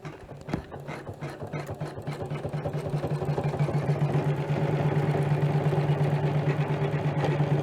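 A sewing machine stitches at a steady rapid hum and whir, starting softly and building to a constant, close mechanical drone with a fast rhythmic tick.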